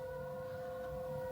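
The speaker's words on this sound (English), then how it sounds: "Ambulance going by." Ambulance siren going by outside, a sustained faint tonal wail heard at a distance with a low background rumble.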